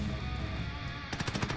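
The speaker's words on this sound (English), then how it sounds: "I'm getting shot from behind" Video game gunfire as a player is shot from behind: game ambience, then a rapid burst of machine-gun shots in the final half second, fairly loud.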